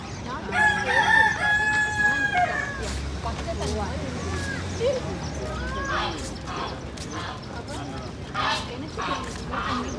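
A rooster crows loudly and close by at the start, then people chatter over a busy, noisy outdoor background in a forest area.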